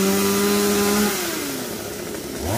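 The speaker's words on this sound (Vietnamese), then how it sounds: "sẽ có 4 người cưa cùng một lúc" Chainsaws cutting Indian mahogany trees in a garden, with four people sawing at once: a loud, steady engine whine that holds one pitch, then drops and wavers as the blade bites, continuing alone without talk.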